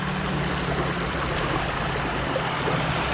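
Water rushes steadily through a gold trap sluice under strong pressure, a dense close broadband wash with a low churning undertone and no pauses.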